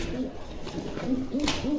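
A pair of racer pigeons gives several soft, repeated coos close by against a quiet background.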